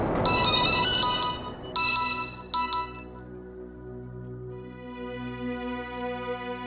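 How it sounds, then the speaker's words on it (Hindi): A melodic phone ringtone plays clearly from a television drama scene, bright electronic tones in short repeating bursts followed by a sustained tone, with no talk. "बेटा तुम फोन क्यों नहीं उठा रहे?"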